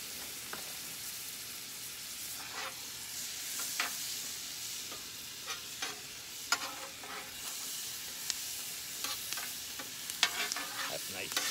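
Vegetables with a teriyaki marinade sizzle on a hibachi grill, giving a continuous soft frying hiss at moderate distance, broken by occasional scrapes and taps of a spatula against the hot surface.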